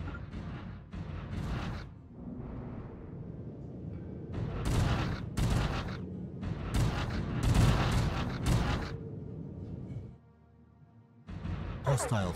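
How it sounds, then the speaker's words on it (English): In a Stellaris space battle, a barrage of torpedoes and weapon fire keeps up a steady stream of rumbling booms and rapid gunfire-like bursts. The barrage drops out briefly, then resumes, and faint talk can be heard underneath. "Got a massive stream of torpedoes coming. That's really starting to do some damage."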